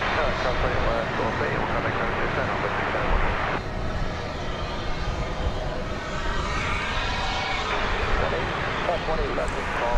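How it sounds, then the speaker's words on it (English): An Airbus A300 jet, flight 761, taxiing at DFW Airport: a continuous broad engine whine and rumble at moderate distance, steady for the whole stretch with a slight shift partway through. "It's another Airbus A306, or A300, I'm sorry. It's flight 761."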